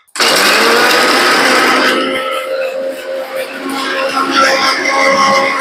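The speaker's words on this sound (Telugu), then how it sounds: "ఇప్పుడు దీన్ని ఇట్లానే మిక్సీ చేసేద్దాము." A kitchen mixie grinding tomato, cumin and salt for chutney, a loud, continuous whirring roar that starts abruptly. The pitch shifts slightly as the contents break down.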